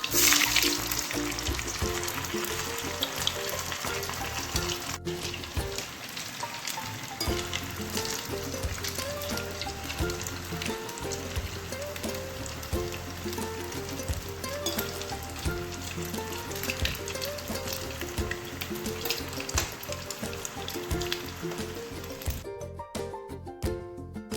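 Kuzhi paniyaram frying in oil in a pan, a continuous dense sizzle and crackle held close and steady throughout, with faint clinks of a utensil here and there and no speech.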